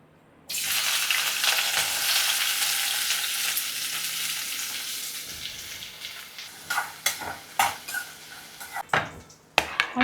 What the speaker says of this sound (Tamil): ஓகே, இதை போட்டு வதக்கணும்.